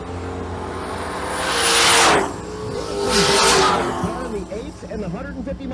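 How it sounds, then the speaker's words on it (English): A Chevrolet Malibu and a Camaro drag race at Twin Cities Raceway, the engines roaring past in two loud, rising and falling passes while a track announcer talks over the noise. "Here's Miles Davidson in the right lane with the Malibu"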